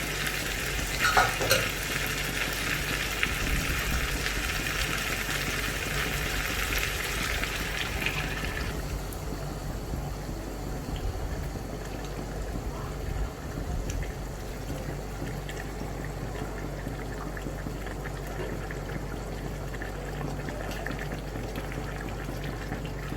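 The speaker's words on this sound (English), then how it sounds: "I add in 1 liter of boiling water." Boiling water pours steadily into a cooking pot of chicken biryani for several seconds, a broad rushing hiss that cuts off abruptly, leaving a low background hum and faint clinks.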